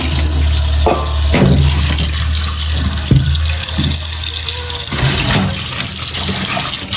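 Crabs being rinsed for a Mangalore-style crab sukka, with tap water running steadily into a sink and a few brief splashes and clatters as they are handled, loud and close.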